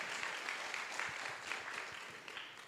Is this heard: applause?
yes